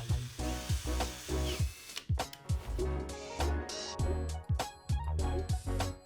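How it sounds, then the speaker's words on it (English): A power drill drives screws for Roman blind brackets, Veneta reveal fit, in repeated short whirring bursts with clicks and handling knocks between them, close and fairly loud. "Install the brackets using the provided screws."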